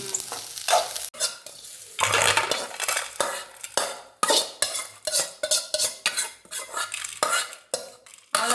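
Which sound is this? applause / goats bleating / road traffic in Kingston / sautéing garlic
sautéing garlic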